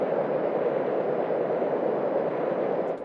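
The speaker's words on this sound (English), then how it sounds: "that's the sound of our own engines" A submarine's own engines in Silent Hunter 4 come through the hydrophone as a steady, muffled rushing rumble, constant and even, with no voices over it.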